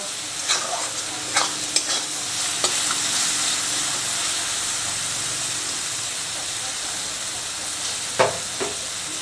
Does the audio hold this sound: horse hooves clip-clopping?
no